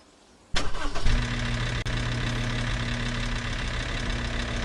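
A truck engine starts up in the off-road driving game Offroad Outlaws, a sudden cranking catch followed by a steady, loud idle that holds to the end.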